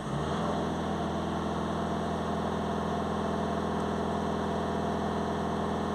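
VW Crafter 2.0 TDI diesel van with a particle filter soot fault, its engine revving up from idle to a steady loud, close, sustained drone with no speech.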